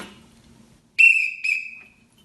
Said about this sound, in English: sounds from the streets, such as police whistles